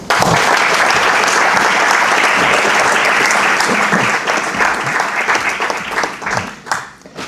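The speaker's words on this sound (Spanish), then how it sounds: "Un aplauso, por favor." Loud, dense applause from an audience welcoming the speaker at a talk on the August 2026 eclipse, sustained and even for several seconds before thinning into scattered claps near the end.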